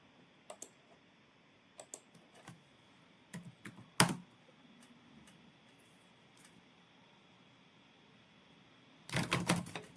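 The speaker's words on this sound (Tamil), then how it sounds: "சும்மா ஏதோ ஒன்று டைப் பண்ணுறேன்" Keys clicking on a computer keyboard during design work in Figma, scattered single taps then a quick close burst of typing at the end, fairly quiet with no talking.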